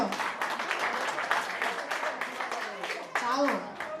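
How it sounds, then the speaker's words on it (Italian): An audience applauds at a dinner show evening performance, a dense, continuous burst of many hands clapping that carries on throughout, with a voice briefly heard near the end. "E ancora un applauso a Maria."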